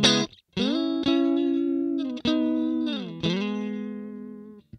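Electric guitar through the Neural DSP Archetype Cory Wong plugin with chorus engaged, playing sustained shimmering chords in four or five strummed hits, each ringing out and decaying, close and clear with no talk.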